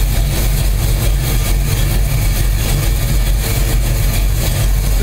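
A car engine with a newly installed distributor runs at a steady, heavy idle close by. The low rumble is loud and continuous with no talk.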